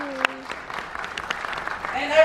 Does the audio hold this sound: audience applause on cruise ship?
yes